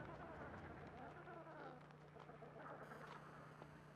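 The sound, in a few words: Adelie penguins calling in a rookery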